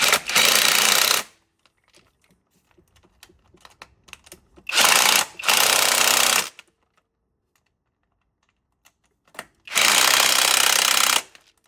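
Bolts on a second-generation Honda CR-V, 2002-2006, being tightened with a power impact tool during a clutch replacement, in three loud bursts of rattling hammering, each about one to two seconds long, separated by quiet gaps.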